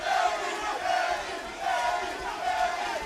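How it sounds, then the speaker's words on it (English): A big crowd at a Cage Rage fight roars and shouts in support of a fighter, a dense, sustained wall of voices rising and falling in surges, with no talk over it. "And Ed seems to have a big crowd backing."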